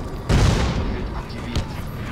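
A grenade goes off in the shooter game Crysis as one deep, heavy boom with a rolling low rumble, followed about a second later by a smaller burst.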